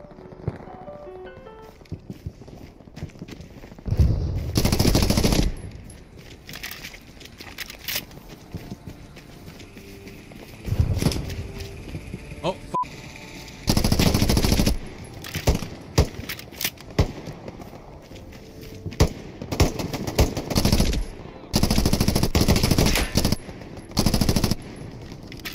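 Bursts of automatic gunfire in a video game, several long rattling volleys separated by quieter gaps, loud and close with some lighter clatter between.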